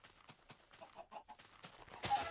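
A few soft, short video game chicken clucks and chirps come in quick bursts, fairly quiet and close, with light rustling between them.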